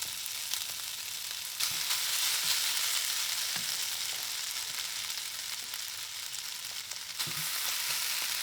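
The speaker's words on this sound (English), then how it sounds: "Sizzling." Food sizzles steadily in a hot pan inside a heated tent while winter camping, a dense crackling hiss with occasional louder pops and scrapes.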